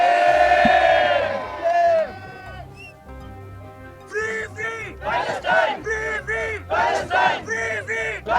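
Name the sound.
protest crowd chanting slogans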